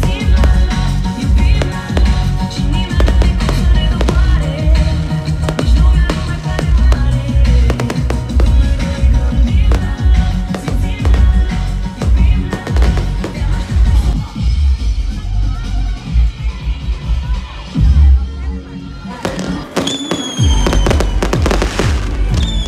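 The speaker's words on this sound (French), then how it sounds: "Et puis il y a eu les feux d'artifice." A fireworks display at the Black Sea coast in Romania, with dense, loud, continuous bursts and crackling rolls for over twenty seconds, a few sharper whistles rising near the end.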